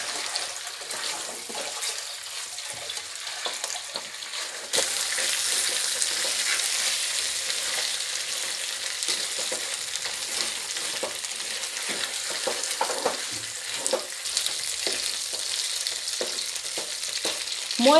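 Pepper chicken with soy sauce sizzles and fries in a pan, a steady crackling hiss that grows louder partway through as the pieces are stirred, with no talking.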